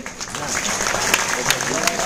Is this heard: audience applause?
yes